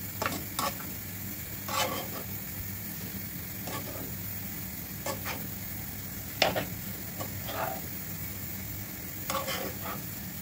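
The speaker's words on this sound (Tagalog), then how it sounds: "syempre ihalo-halo naman guys para pumantay ang kanyang luto" Vegetables and shrimp sizzle steadily in a frying pan, with a spatula stirring and scraping the pan in several distinct bursts over the constant close frying hiss; no one speaks.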